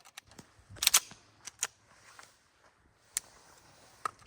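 Sharp pistol shots from a 2019 Staccato P fired outdoors at a distance target, coming as a few isolated cracks with uneven gaps between them, fairly faint overall.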